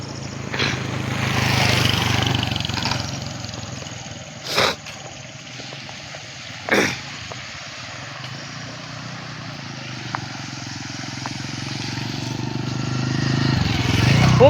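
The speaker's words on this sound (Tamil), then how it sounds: "இந்த வண்டி பைக்கில் வராங்க பாருங்கள்" Motorbikes ride through water on a flooded road, a steady engine drone with a couple of brief louder bursts as they pass, rising again toward the end, while someone talks.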